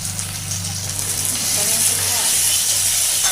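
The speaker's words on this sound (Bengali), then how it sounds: "টমেটো কুচিগুলো দিয়ে মশলার গড়টা করে নিচ্ছি" Chopped tomatoes with ginger and spices fry in a pan as a masala base for an egg and cauliflower curry, giving a steady, close sizzling hiss that swells slightly and holds over a low hum.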